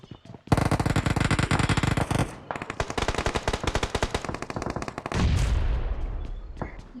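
Rapid automatic gunfire in a shooting video game, loud sustained bursts of dense shots, a brief pause, then more bursts with heavier booming fire toward the end, no speech.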